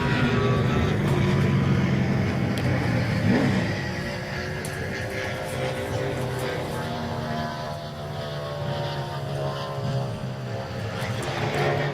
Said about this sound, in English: Here's the 36 car of Michael McDowell going out to try to get this car qualified